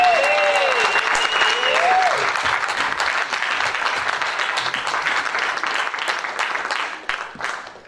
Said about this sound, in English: Please, a wonderful, wonderful round of applause for Mr.